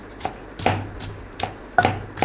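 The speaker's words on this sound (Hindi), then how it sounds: "इधर प्याज़ों को भी हम अच्छी तरह से कूट लेंगे" Onions being pounded for bitter gourd stuffing, five or six separate sharp knocks at an uneven pace, close and fairly loud, with faint ringing after each blow.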